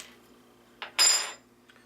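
A bottle of Oud Beersel Ber Salis, a blend of sour and blonde ale, pops open with one short close hiss after a brief faint click, then quiet.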